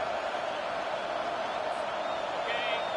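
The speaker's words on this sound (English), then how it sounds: "This crowd busting the decibel meter and trying to will a 4th down stop." A loud crowd in a football stadium roars in a steady, dense wall of cheering and shouts during a Kentucky vs Tennessee game, pushing for a fourth-down stop, with a commentator's voice faint underneath.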